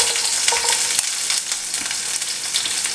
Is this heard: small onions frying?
yes